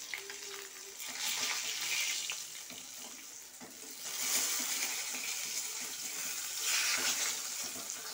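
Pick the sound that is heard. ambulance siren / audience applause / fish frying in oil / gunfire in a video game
fish frying in oil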